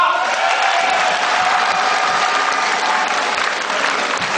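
Loud, dense applause and cheering from a large crowd at a Cebu network club event, welcoming the company founder onstage, sustained and steady throughout with occasional whoops.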